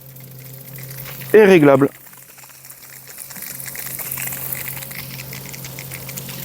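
Water flows from a Compa Geyser mini water heater fitted in a converted van. A short spoken phrase comes first, then a soft, steady stream of running water builds gradually and keeps going.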